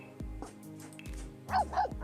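A deep-voiced pet dog in The Sims 4 gives several low barks, about three spaced woofs, with the last pair louder and closer over a faint game backdrop.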